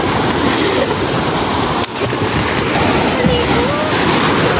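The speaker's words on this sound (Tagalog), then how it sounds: "lakas ng alon." Crashing ocean surf roars steadily and loudly throughout, with brief faint voices mixed into the wash of the waves.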